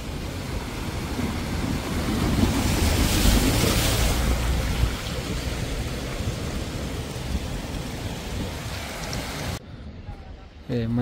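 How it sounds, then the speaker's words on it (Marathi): Water rushing along a mountain road in Uttarakhand, where clear water runs over the roadway. A loud, steady broadband wash of flowing water fills the whole stretch before it cuts off abruptly near the end. "रस्त्याला वाहणार पाणी आहे."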